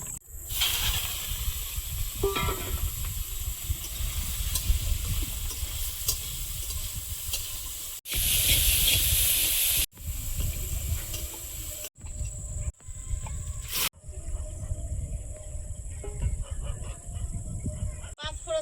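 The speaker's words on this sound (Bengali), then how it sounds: "চিংড়িটা ভেজে নেব।" Prawns fry in a pan. A steady sizzle and hiss runs throughout, near and fairly loud, broken by several abrupt cuts and shifts in level.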